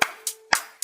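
Claps in a children's animal song, four sharp hand claps in an even quick rhythm, close and clear.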